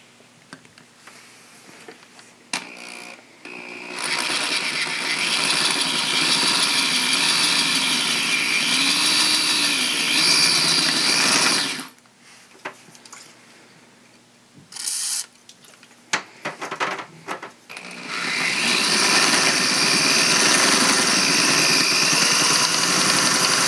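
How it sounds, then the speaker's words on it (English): A power drill with a full-size bit bores through pilot holes while mounting a chainring on an electric wheelbarrow, whining loudly for long stretches, pausing, then starting again in short bursts before another long run. "So now I go through with a full-size bit,"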